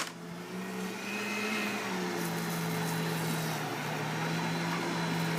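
An electric drink mixer runs at its slowest speed, whirring a chocolate malt of ice cream, syrup and milk in a cup, a steady motor drone rising briefly as it starts, then holding close and even.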